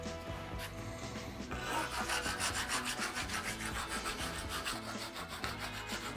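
Hand rasp filing the inside of a hollowed guava root, a loud, close, rhythmic back-and-forth scraping of wood in quick repeated strokes, with no talk over it.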